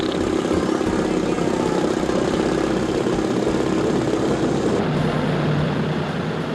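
Engine on a B-29 bomber starting up, a loud continuous piston-engine roar with a steady low rumble that holds throughout and changes only slightly in tone partway through.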